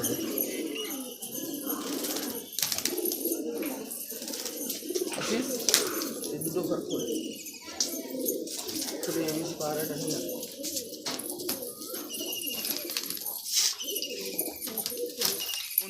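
Andhra pigeons coo steadily in a large loft in Kolkata, a dense overlapping chorus of low, throaty calls that never lets up, with occasional wing rustles and some background voices mixed in.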